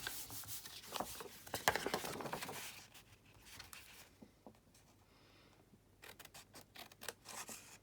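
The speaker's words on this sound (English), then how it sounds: "I'm just going to burnish that, fold and burnish that." Folded cardstock burnished during card making: brisk rubbing and scraping strokes, loud and close for a few seconds, then quieter, a pause, and another run of short rubbing strokes, with no talk over it.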